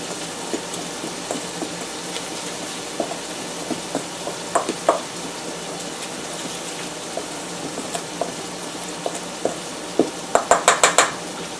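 Onions with garlic and onion powder being stirred in a pot for beef stew: soft scraping and clicking of a spoon against the pot over a steady low sizzle, with a quick cluster of sharper clinks near the end.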